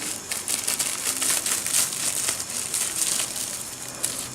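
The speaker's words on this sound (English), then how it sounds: "Let me like tear apart this bag." A plastic bag being torn apart by hand gives a close, loud run of crinkling and rustling with sharp crackly bursts, steady for several seconds.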